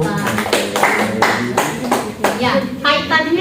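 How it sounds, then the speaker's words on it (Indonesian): A classroom of eighth-grade students claps for a classmate named Mita after a micro-teaching lesson, with a burst of uneven hand claps in separate waves and young voices chattering underneath. "tepuk tangan untuk Mita"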